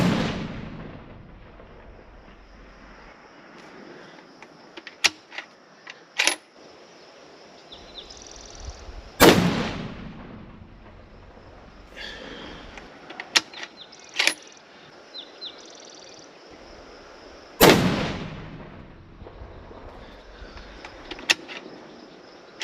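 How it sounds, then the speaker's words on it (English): A hunting rifle is fired outdoors, two loud sharp shots with ringing decay several seconds apart, among quieter clicks and handling of the rifle's bolt and gear. "shoot one shot for fouling, and then I'll shoot 3 more shots"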